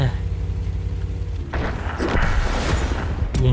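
A shell lands and explodes nearby in the World of Tanks video game, a heavy, rumbling boom that swells midway and stays loud, with a sharp crack near the end and someone talking over it.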